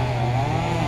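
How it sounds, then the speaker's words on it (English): A chainsaw trims crepe myrtles and bushes in garden beds, its engine a loud, steady, close buzzing drone throughout. "it sounds like the chainsaw ran out of the gas"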